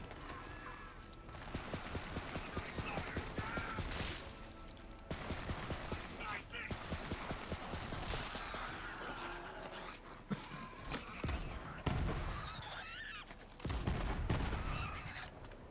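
Rapid gunfire in the video game Borderlands 3, dense bursts of repeated shots in fast rhythmic volleys with short pauses, loud and close, while a player talks over the shooting.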